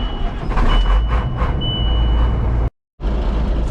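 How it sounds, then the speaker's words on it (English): An old grain and peanut hauling truck rumbles loudly as it pulls off, with a deep engine drone and high beeping tones early on, then a short cut to silence before the engine noise resumes. "this old truck right here, she's hauled a mini of grain and a mini of peanut down the road"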